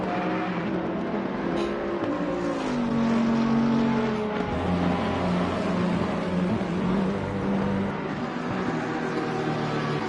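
Race car engines in a PS5 racing game drone steadily and loudly with shifting engine pitch, several cars layered in a continuous roar.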